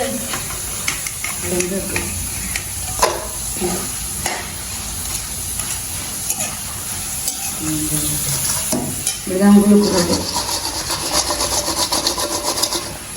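Food sizzles and crackles steadily in a hot pan, with stirring and scraping sounds on top, growing louder near the end.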